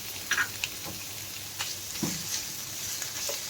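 Schezwan chutney being stirred into paneer frying in a pan for chilli paneer: a soft steady sizzle with a few light scrapes and clicks of the spoon, heard close and alone.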